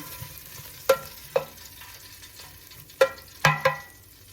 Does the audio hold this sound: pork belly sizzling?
yes